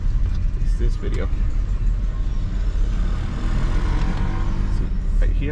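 A car accelerates slowly and steadily, its engine a continuous low rumble that builds gradually with some road noise, with no talk.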